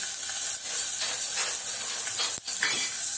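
Garlic, fenugreek, curry leaves and dried chillies sautéing in hot oil, giving a steady close sizzling hiss with faint stirring scrapes and one brief dip near the end.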